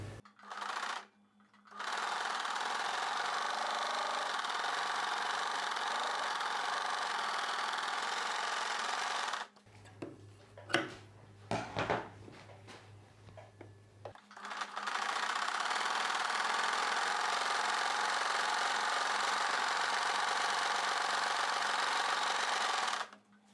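A sewing machine stitches a belt strip onto a blouse in two long whirring runs, with a short pause of handling noises and clicks between them, all close and steady.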